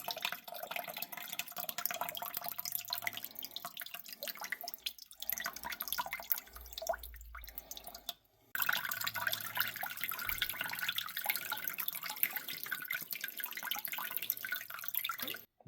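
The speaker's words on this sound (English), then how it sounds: "We're going to add some pineapple juice." Pineapple juice pours steadily into a BBQ marinade of chicken broth and adobo. The liquid splashes and trickles continuously at a modest level with no speech, pausing briefly partway through before the pour resumes.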